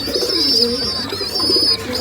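Pigeons call nearby in a constant twittering with soft low coos underneath, a lively, close chorus with no voices.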